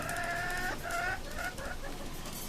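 A hen kept in a small rooftop poultry enclosure gives a few short, nasal clucks close up, over a steady background hum.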